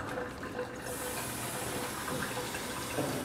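Water pours steadily into a cooking pot holding chicken breast, a continuous gushing fill sound with a hiss that lasts throughout, close and moderately loud with no talking.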